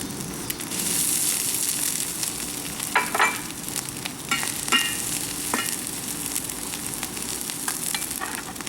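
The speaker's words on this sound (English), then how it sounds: "Now we're going to add our rice." Rice goes into a vegetable garden stir-fry in a bird bath wok, a loud steady sizzle with scraping stirs and occasional crackling pops, close up, no talking.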